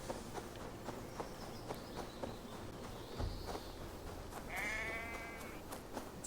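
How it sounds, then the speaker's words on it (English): A sheep bleats in the Assassin's Creed Valhalla video game, a wavering harmonic cry near the end, over footsteps and clip-clop steps along with ambient outdoor game sound. "It sounds like a sheep, and not a happy one."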